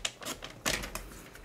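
Paper being cut into pieces for a handmade fold card, giving a few quick crisp snips in a row, close and alone without talk.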